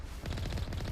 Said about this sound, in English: Is when there are Geth shooting at you.